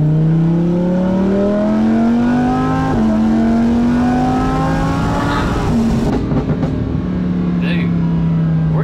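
A Lamborghini Huracan engine drones loudly at high revs with rising and falling pitch, and crackling exhaust pops come in toward the end. The engine is close and sustained throughout.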